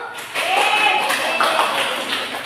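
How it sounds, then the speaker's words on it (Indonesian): A classroom group claps for a student named Susan after her presentation on environmental damage, a short burst of clapping that swells quickly and holds, with a voice speaking over it. "Terima kasih kepada Susan. Tepuk tangan dulu."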